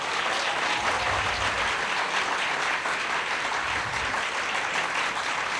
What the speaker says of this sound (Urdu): اس بات پہ سب سے اونچی تالی بج رہی ہے.